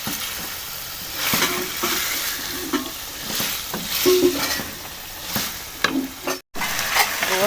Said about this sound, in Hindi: गोश्त की भुनाई हो चुकी है